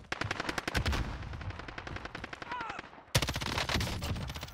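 Rapid automatic gunfire in the Call of Duty Warzone battle royale, loud dense bursts of shots broken by a brief pause near the end, with faint talk underneath.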